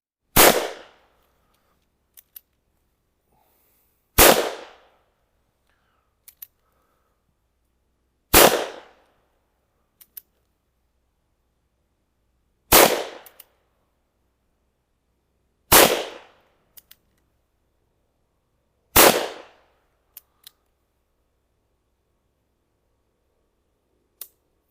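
A Smith & Wesson Schofield revolver fires six loud, sharp shots at targets on an outdoor range, roughly four seconds apart, each with a brief ringing decay and faint clicks of the action between shots.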